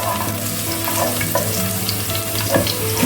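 Green chillies sizzle and crackle steadily in hot oil while being fried for chicken cutlet, a continuous close frying hiss with small pops and no voices.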